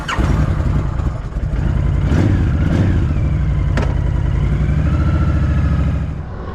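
Honda Fury 1300 motorcycle engine revving up loudly close by, a throaty rising roar that holds steady and then eases off near the end.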